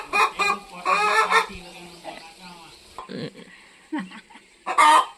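A hen clucks and squawks over an egg in loud bursts close by, with short pauses and a person speaking briefly between the calls.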